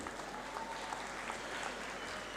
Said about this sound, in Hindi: भरपूर तालियां उनके लिए।